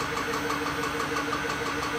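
A Tormach lathe spindle hums steadily through a warm-up cycle, a continuous mechanical drone with faint periodic pulsing, close and fairly loud, with no voices.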